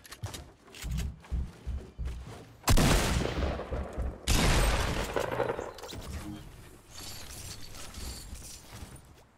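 Gunfire in the Fortnite video game: loud bursts of rapid shots with sharp, dense blasts, some mechanical clatter between them and faint voices beneath.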